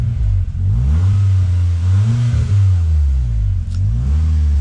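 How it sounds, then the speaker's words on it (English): A Volkswagen Golf R MK6 fitted with a Cobra exhaust revs up close several times, its engine note rising and falling in smooth, throaty swells over a loud, steady idle. "Do you want to hop in there and give it a couple of revs?"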